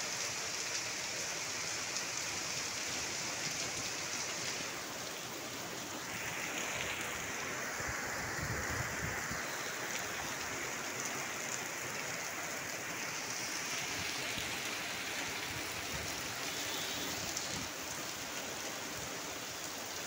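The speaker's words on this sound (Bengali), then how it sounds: "অনেক জোরে হচ্ছে বৃষ্টিটা।" Heavy rain pours down in gusty wind, a dense, steady hiss of water drenching the surroundings close by, continuous for the whole stretch with no voices.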